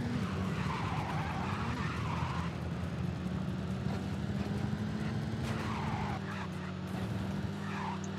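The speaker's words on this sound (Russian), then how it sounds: "А немножко в занос, мне кажется, машина эта ходит." A BMW in the racing game Midnight Club 2 slides with a continuous tyre squeal over a steady, droning engine note, loud and unbroken throughout.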